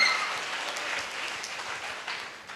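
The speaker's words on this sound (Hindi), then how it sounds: "मैं चाहूंगी सर के लिए भी एक बार जोरदार तालियां होनी चाहिए" An audience claps loudly and steadily at a celebration event for the chief guest, a dense even wash of many hands that fades slightly toward the end.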